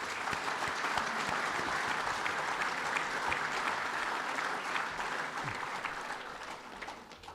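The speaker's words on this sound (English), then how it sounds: "please can we all stand and give them a round of applause" An audience applauds rugby's 2019 World Cup winners at a ceremony, a dense, sustained clatter of many hands clapping at moderate volume that eases slightly toward the end, with no voices over it.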